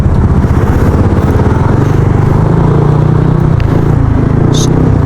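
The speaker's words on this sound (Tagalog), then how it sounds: "May ingay yung tambutso." Yamaha NMAX scooter fitted with a JVT pipe V3 aftermarket exhaust, a loud close rattly engine burble with a steady pulsing rhythm throughout and a brief high clatter near the end.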